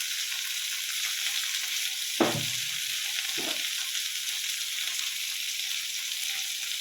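Chicken pieces for chilli chicken fry in a pan with a steady, close sizzle throughout, broken by two brief stirring scrapes.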